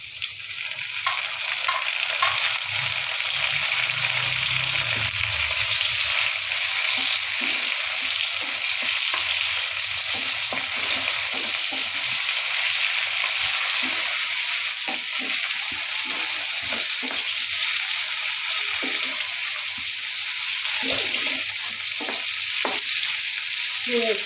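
Food fries and sizzles loudly in a pan for a long stretch, with intermittent scraping and clinking as it is stirred, and no talking over the steady hiss.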